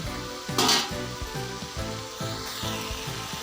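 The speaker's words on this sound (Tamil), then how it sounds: "இப்போ பாருங்கள் நல்லா ஃப்ரை ஆகிருக்குது" Mutton masala gravy sizzling and frying in a pan, a steady close hiss with rhythmic scraping strokes of stirring and a brief louder burst near the start.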